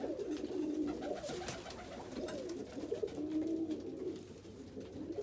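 Indian Fantail pigeons cooing in a loft with nesting birds, a soft, continuous run of low rolling coos from several birds, fairly faint and close.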